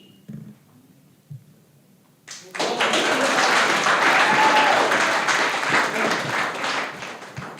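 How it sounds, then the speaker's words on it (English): Applause from the audience at a regular city council meeting bursts in after a few quiet seconds with faint sounds, then holds as full, loud, sustained clapping before easing slightly near the end. "Thank you for the applause"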